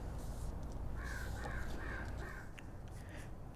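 Crows cawing outdoors, a run of four harsh caws in quick rhythm followed by a couple more scattered calls, set against a steady background hiss.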